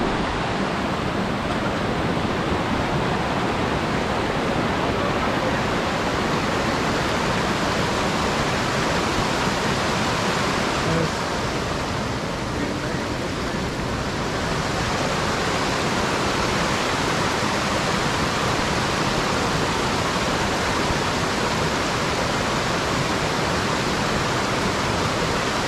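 A mountain stream rushes over rocks in a loud, dense, unbroken roar that fills the whole scene with steady white-water noise.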